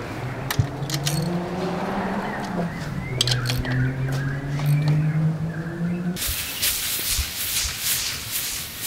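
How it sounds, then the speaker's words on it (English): Rough, scratchy sanding strokes rasp against the metal roof of a Honda Civic beneath a low mechanical hum, then a burst of harsher hissing grit near the end. "We are sanding the roof and sanding one side."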